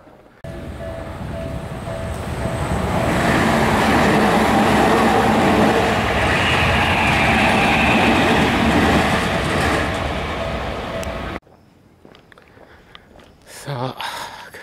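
A train rumbles past close by, building to a loud, sustained roar for several seconds before cutting off abruptly, leaving quieter outdoor noise and faint voices.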